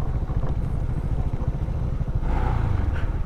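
Motorcycle engine labouring up a steep, rough road near Batad, Banaue, Ifugao, a close, steady pulsing putter that grows slightly louder and strains near the end.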